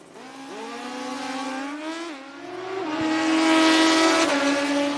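Small-tire Kawasaki drag bikes, one green and one blue, launch and scream down the strip at a sportsman motorcycle meet, engine pitch climbing through shifts into a loud sustained wail, with no talk.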